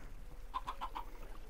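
Chickens clucking in the video game Minecraft, four short evenly spaced clucks in quick succession, soft and fairly close over a low background hum.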